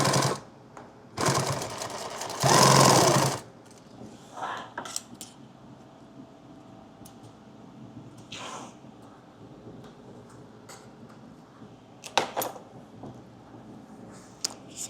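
A sewing machine stitching a laptop bag, with a couple of loud whirring runs early on followed by quieter handling clicks and knocks of fabric and parts.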